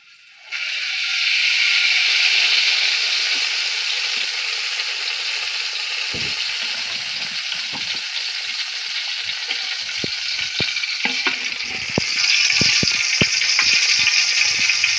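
Cooking oil sizzling in a large pot, a loud continuous hiss that bursts on at the start and holds steady, with scattered clinks and scrapes of stirring toward the end.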